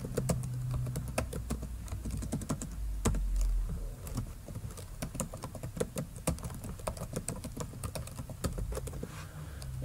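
Someone types an email address on a computer keyboard, a quick run of crisp key clicks with brief pauses, close and alone.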